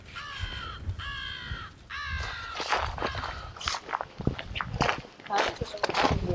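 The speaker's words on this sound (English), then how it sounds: "Yeah, the American crow, so that's what we just heard." An American crow caws several times outdoors in a nature setting, a series of rough repeated calls up front, followed by footsteps and people talking.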